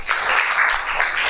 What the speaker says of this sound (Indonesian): Kita beri tepuk tangan untuk temannya.